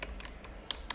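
Fingers typing code on a computer keyboard, a handful of soft, irregular key clicks over a low steady hum, with two sharper taps toward the end; close and fairly quiet.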